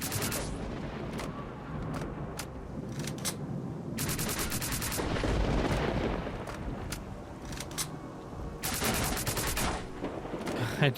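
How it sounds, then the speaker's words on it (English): Sustained bursts of automatic gunfire from the video game STALKER Call of Pripyat, loud and dense with rapid repeated shots in several long volleys separated by brief lulls, with game ambience underneath. "Just gonna shoot a little bit."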